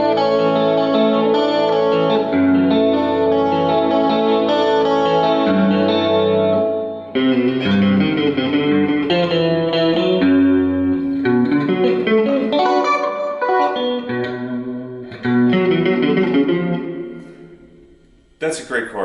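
Guitar played through the chorus effect of a Roland JC-40 combo amp, a shimmering, swirling wash of sustained chords and arpeggiated notes with steady loudness and brief pauses between phrases, ending abruptly.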